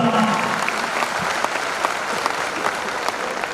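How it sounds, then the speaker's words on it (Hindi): An audience at a motivational goal-setting talk claps together in a dense, steady round of applause that stays loud and even for the whole stretch, with no voices over it. "मैं चाहता हूं एक ताली आज इस मंच से बीसी छाबड़ा जी को धन्यवाद देना चाहता हूं"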